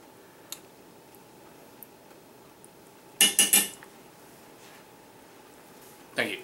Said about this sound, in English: I always like banging on the pots.